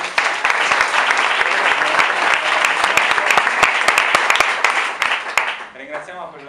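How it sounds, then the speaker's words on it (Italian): Sustained applause from an audience at a startup event in Milan, dense clapping at steady volume that tapers off at the end. "Inizierei a fare un applauso."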